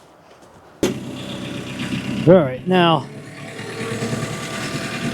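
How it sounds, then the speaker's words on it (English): A Kubota Grand L 4060 LE tractor engine runs steadily in the background after a sudden start, with someone talking briefly over the low mechanical drone. "this tractor, this Kubota Grand L 4060 LE, this thing moves my face cord"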